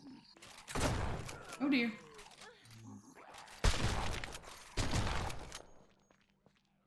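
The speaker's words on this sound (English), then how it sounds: "Probably would be a good time to bust out the old shotgun." Shotgun blasts in the survival video game No One Survived, several heavy booming shots spaced a second or so apart, with someone speaking briefly between them.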